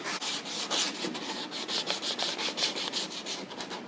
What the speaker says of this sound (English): Smooth off the edges with a little bit of sandpaper